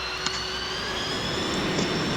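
Airplane engine at takeoff with flaps still up, a steady broadband jet roar with faint tonal whine holding level and loud throughout, no voices.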